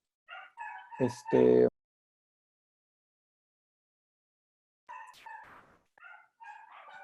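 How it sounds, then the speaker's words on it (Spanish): Dogs bark in two separate bursts with a long silence between, sharp repeated yaps at moderate distance. "siguen ladrando"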